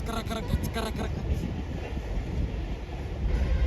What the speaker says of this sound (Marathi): हे बघा ट्रेन चालली गाईज, मालगाडी